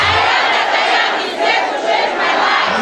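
A church congregation shouts loudly together, a dense continuous roar of many voices that fills the room for a few seconds without a break.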